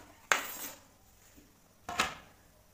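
Two crisp clinks as cut apple pieces drop into a bowl, a sharp hit followed by a second one a moment later, close and fairly loud against a quiet background.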